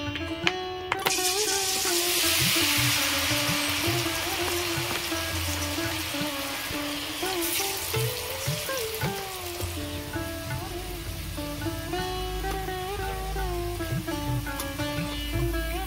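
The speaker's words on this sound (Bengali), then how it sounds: "এবার আমি ঝুরি ভাজাগুলো ভেজে নেব।" Jhuri bhaja, a fine gram-flour snack, sizzles steadily in hot oil, a dense crackling hiss lasting throughout, with tonal music playing over it.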